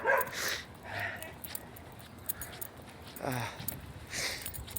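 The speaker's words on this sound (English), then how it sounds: "That poor dog's barking and barking." A dog barks several times in short bursts across the clip, with soft whimpering tones and a little background noise between barks.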